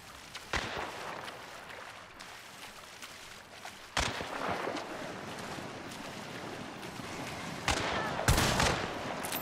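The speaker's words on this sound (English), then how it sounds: "I'm getting shot at by tons of people" Several enemy guns firing at once in Hunt: Showdown, sharp shots scattered at irregular intervals over a busy battle background, with louder close bursts near the start, middle and end.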